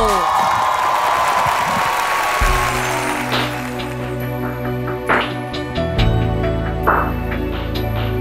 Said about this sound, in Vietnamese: hãy cùng dành một tràng pháo tay